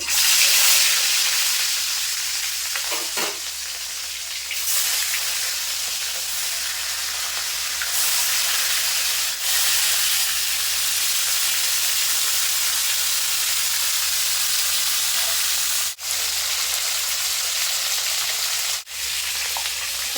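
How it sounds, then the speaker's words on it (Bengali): Loud, steady frying sizzle of rohu fish heads in hot mustard oil, continuous throughout with a few brief dips and occasional stirring clatter. "তো তেল খুব ভালোভাবে গরম হয়ে গেছে এবার মাছের মাথাগুলো আমি ভেজে নেব"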